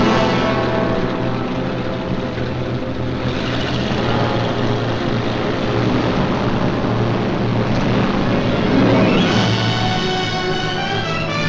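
Engines of British bombers from a 1943 WWII wartime film, a steady loud droning roar sustained throughout with a brief swell near the end, no talk.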